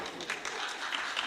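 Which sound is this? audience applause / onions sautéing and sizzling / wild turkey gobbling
audience applause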